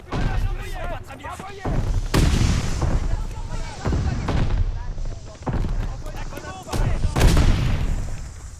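Booming blasts and rattling gunfire in Call of Duty Vanguard, repeated heavy explosions and bursts filling a loud, chaotic battle scene while someone talks over the combat.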